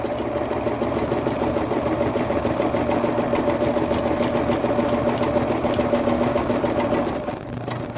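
Sewing machine stitching fabric for DIY pumpkins, a fast continuous mechanical whir with a steady rapid beat, close and alone, easing off at the end.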